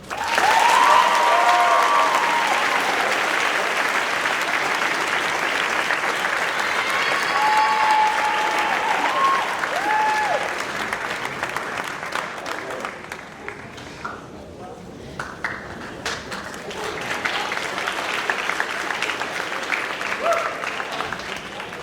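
Sustained audience applause fills a high school senior awards ceremony, loud and steady from the start, then thinning and easing off after about ten seconds before swelling slightly again, with a few voices and cheers mixed in.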